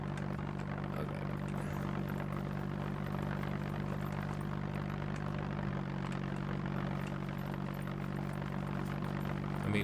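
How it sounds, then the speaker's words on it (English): A propeller airplane drones steadily overhead in the survival game SCUM, a continuous low engine hum that sounds close despite the plane being far away, with a slight pitch shift midway. "look how far away that airplane is. And it sounds like I'm right on top of it"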